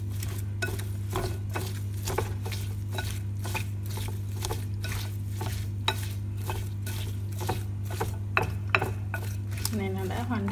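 Cucumber salad being tossed in a bowl after lime juice is squeezed in, with steady close stirring clicks and light utensil taps against the bowl over a constant low hum.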